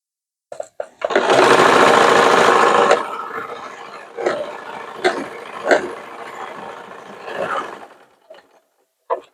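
A sewing machine runs one long loud burst while stitching a palazzo, then slows into a few shorter, quieter stitching runs and mechanical clicks before falling silent.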